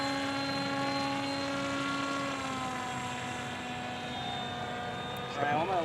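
A 68-inch Storm Chaser radio-controlled model airplane drones overhead with a steady, faint propeller whine whose pitch slowly drifts lower, and a brief flutter at the end.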